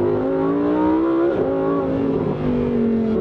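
A Lamborghini Huracán Tecnica engine revs loudly from inside the car, with a rising and falling harmonic wail, a brief dip around the middle and another climb toward the end.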